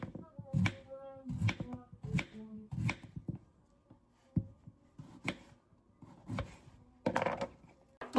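A knife chops garlic on a cutting board in a home kitchen, with repeated crisp strokes in uneven bursts and short pauses between them, close and clear.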